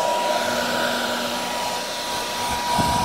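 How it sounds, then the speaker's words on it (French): A hair dryer running at full 2000-watt power from a FlashFish P25 portable battery, a loud steady whooshing hum with a faint tonal whine, close and continuous with no talk. "Donc là on a le sèche-cheveux"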